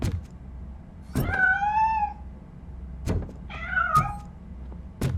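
A cat meows in the Robocop: Rogue City video game, two clear drawn-out meows a couple of seconds apart, each preceded by sharp knocks or thumps, heard close and alone without talk.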